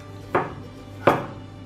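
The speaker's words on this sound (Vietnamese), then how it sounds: "Đầu tiên, tỏi các bạn sẽ cắt nhỏ ra, để một chút nữa mình đi giã nó sẽ không có bị văng." Two sharp knife strikes on a cutting board as garlic cloves are chopped for a sweet-and-sour fish dipping sauce, evenly spaced, close and clear over a quiet kitchen hum.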